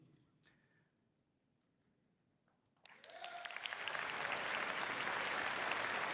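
An audience at a keynote bursts into clapping after a quiet pause, swelling quickly into loud, sustained applause that holds to the end.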